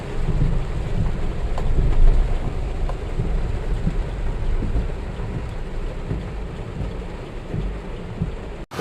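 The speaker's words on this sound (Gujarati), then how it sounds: "વરસાદ આવે છે અહીંયા આગળ તમે જુઓ" Rain pours steadily outside a bhaji pav eatery in Vadnagar, a dense continuous loud wash of falling water with occasional low rumbles, and no talking.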